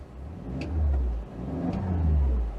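A 2007 Smart Fortwo W451 engine revs in neutral, two rising-and-falling swells of a mid-pitched engine note, close and fairly loud.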